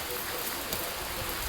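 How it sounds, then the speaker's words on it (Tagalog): Steady rain falls in a continuous even hiss, with soft scattered patter across the whole clip and faint voices in the background. "medyo naulan ngayon, mahirap lumabas"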